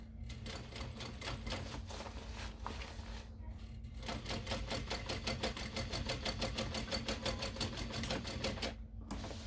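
Sewing machine stitching a mini backpack, a rapid, even rattle of needle strokes running close and steady, briefly pausing twice before continuing.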